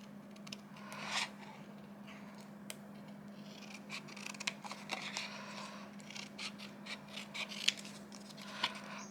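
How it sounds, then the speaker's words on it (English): Scissors snip steadily around the top edge of paper in close, quiet, irregular cuts, with soft rubbing and rasping between snips over a low steady hum. "I'm literally gonna get my scissors and I'm gonna cut on the edge all the way around the top"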